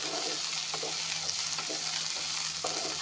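Beans stir-fried with three bay leaves over low heat give a steady soft sizzle, while a spatula scrapes and taps the pan at intervals. No one talks.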